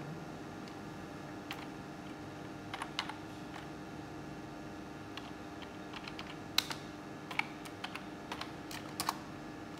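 Someone types steadily on a computer keyboard while entering a bank customer's account details into a database, a close run of light key clicks with a few sharper taps, heard over faint room hiss.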